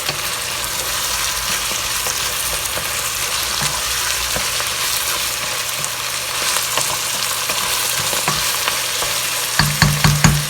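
Ragu sizzling steadily in a pan while being stirred for lasagna, a continuous frying hiss with soft scrapes, then a few louder spoon knocks near the end.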